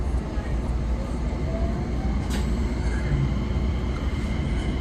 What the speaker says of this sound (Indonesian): Ini saya udah di dalam kereta